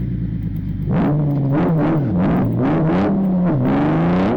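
Modified car engine in the Live for Speed racing game revving repeatedly, pitch rising and falling in quick surges after a brief quieter idle, loud and continuous.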